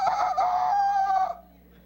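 A rooster gives one loud, close crow that lasts just over a second and then cuts off, leaving quiet background.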